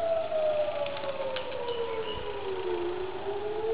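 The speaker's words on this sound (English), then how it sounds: "Bomb sound going off now." A civil defense air-raid siren sounds during a monthly test in Israel, its single wailing tone heard from a distance as it slowly falls and rises again over faint background noise.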